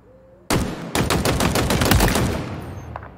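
Rapid automatic gunfire in the video game Halo erupts after a brief quiet, a loud, close stream of shots with a short break near the start before continuing and fading into a tail.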